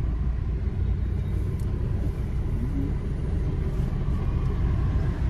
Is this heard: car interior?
yes